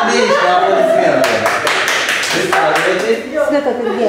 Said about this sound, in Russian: Отлично, аплодисменты.